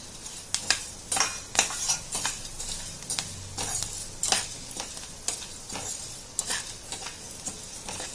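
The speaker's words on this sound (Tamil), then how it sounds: "இந்த மாதிரி வறுத்துட்டு நான் இதில் இப்போ வந்து வெல்லம் சேர்த்துக்கிறேன்." A spoon stirs jaggery into roasted wheat in a pan, with sharp scraping clicks and taps against the metal at irregular intervals over a faint, low sizzle, close by and with no talking.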